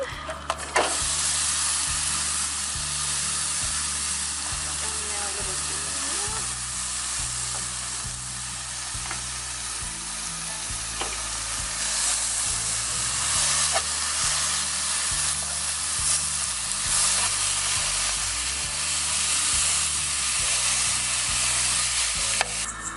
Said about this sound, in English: so we are going to put our mince, get that one going